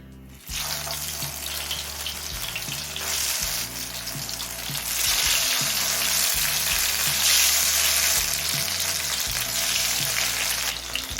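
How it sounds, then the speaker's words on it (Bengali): Stuffed pointed gourds fry in hot oil over a medium flame, making a continuous dense crackling sizzle that swells slightly midway and holds close and steady for about eleven seconds, with no talking. "কয়েকটা পটল আমি দিয়ে দিয়েছি এবার মিডিয়াম ফ্লেমে কিছুক্ষণ ভাজা হতে দেবো"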